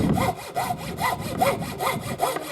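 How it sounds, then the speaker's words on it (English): A hand saw cuts through wood in steady back-and-forth strokes, about six rasping passes in a brisk, even rhythm, close up with no talking. "we can start sawing out and back"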